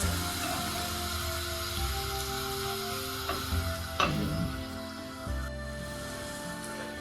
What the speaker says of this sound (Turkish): Evet son tostum da kızardı.